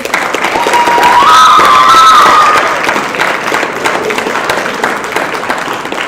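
A lecture-hall crowd at a university debate breaks into loud clapping with shrill whistles and whoops peaking in the first few seconds, then settling into steady applause.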